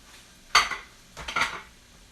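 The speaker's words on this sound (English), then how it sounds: "I'm going to go ahead and dump my onions in here" Chopped onions tumble into a pot while making New York Italian pasta sauce, giving two short clattering bursts of pieces and utensil against metal, close and alone with no talk.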